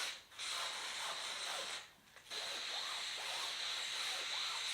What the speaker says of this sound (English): Just look at all that steam just pouring out, man.